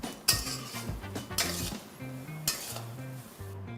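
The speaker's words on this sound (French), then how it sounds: "Faites revenir pour mélanger." Northern Thai pork and tomato chili paste being stir-fried in a pan, with repeated metallic scraping and clinking of a utensil against the pan over a faint sizzle, close and with no talking.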